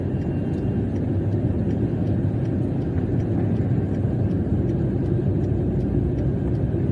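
A Hyundai Santro rolls straight down the road with the steering wheel let go, giving a steady low rumble of engine and tyre noise that holds even from start to finish, with no talking.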